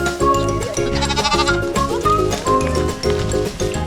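Batur sheep bleat repeatedly in a cold highland farm setting, their wavering calls overlapping in a loud, busy chorus that continues throughout.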